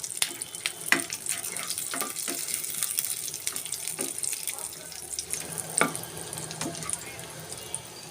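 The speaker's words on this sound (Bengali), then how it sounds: "এগুলোকে আমি হালকা একটু ভেজে নিব, যেহেতু এগুলো কাঁচা।" Raw almonds are fried lightly in a pan. A soft, watery sizzle continues throughout at moderate volume, with scattered clicks and scrapes as the nuts are stirred.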